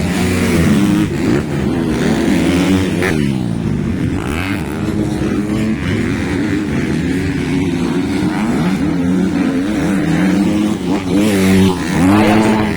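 A misfiring Inter Pro 250 motorcycle engine roars steadily and close, its pitch wavering and sputtering unevenly, with rough revving throughout and no voices.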